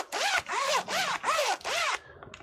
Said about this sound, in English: Good slidey zipper.